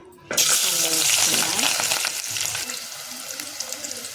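Green chillies hitting hot oil burst into a sudden loud sizzle after a quiet moment, then the crackle settles into a strong, steady frying hiss close by, with a faint voice in the background.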